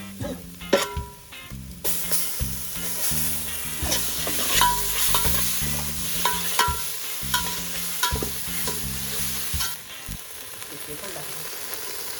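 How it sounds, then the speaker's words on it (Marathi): A wood-stove-roasted spice paste hits hot tempering oil for a mutton curry, giving a loud, busy sizzle that keeps going while a spoon scrapes and clanks against the pan in repeated stirring strokes. "हे आहे ते वाटण जे मी सकाळी चुलीवरती भाजून वगैरे बनवलेलं, ते आता त्या फोडणीमध्ये टाकायचं आहे"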